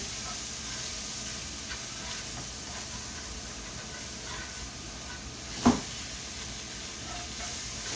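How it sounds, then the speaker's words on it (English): Vegetables sweat and sizzle in a pan for keto jambalaya, a steady soft frying hiss throughout, with one brief sharp scrape or clink midway. "Keep letting them sweat and break up all that stuff from the bottom of the pan"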